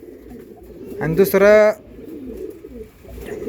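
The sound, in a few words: pigeons cooing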